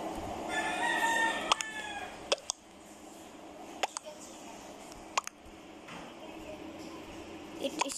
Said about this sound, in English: It is bird.